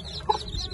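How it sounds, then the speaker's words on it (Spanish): A hen gives a single short, fairly faint cluck close by, with a quiet background and no talk. "Ahí está esta gallina."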